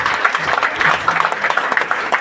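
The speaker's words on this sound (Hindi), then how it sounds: "ताली तब तक बजाएं जब तक एक एक नारी शक्ति यहाँ आ जाए" Audience clapping at an introduction speech for a CJ store event in Digha, West Bengal, a steady dense patter of many hands sustained throughout with no voices over it.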